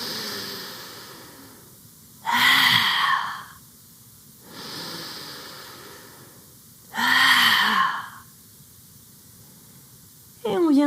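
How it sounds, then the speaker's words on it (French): Two slow cycles of long breath drawn in through the nose and blown out through the mouth during a breathing exercise. Each inhale is a soft hiss and each exhale a louder, breathy rush, close to the microphone. "on va faire une longue inspiration par le nez. Et quand on expire par la bouche, on rentre le ventre"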